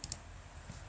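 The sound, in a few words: computer mouse click selecting a radio button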